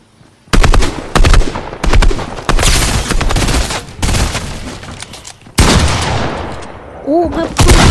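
In Fortnite, loud bursts of gunfire crack out again and again, with dense rapid volleys and short pauses between them, up close and dominant throughout, and a brief tonal chirp near the end.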